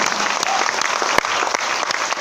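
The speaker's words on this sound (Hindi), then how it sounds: "ताली जोरदार बजाएं" An audience at a business seminar applauds loudly and steadily. The dense clapping fills the room, with a few sharper claps standing out.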